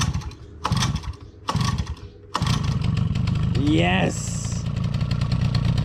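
A 1.8T car engine cranks in a few short bursts, catches and settles into a loud, steady running drone, with a brief rising whine over it; a voice speaks briefly.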